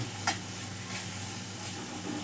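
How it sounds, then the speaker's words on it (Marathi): Ground masala fries and sizzles steadily in a pan as it gets stirred, a continuous hiss with a faint scrape of the spoon, no voice over it. "आता हे वाटलेला मसाले ना हा त्याच्यामध्ये टाकून घेऊ आणि त्याला पण चांगला असं हलवून घेऊ."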